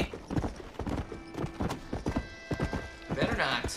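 Horse hooves clip-clop in a steady walking rhythm in Red Dead Redemption, close and clear, with someone talking over them and a brief whinny near the end.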